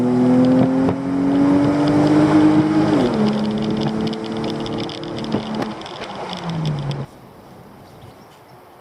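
A car on a road test after a radiator repair, its engine droning loudly and steadily as it rises in pitch, then easing down before cutting away to near silence.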